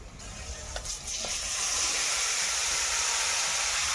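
Marinated meat drops into hot oil in a wok with a few clinks, then a loud, steady sizzling hiss builds and holds close by.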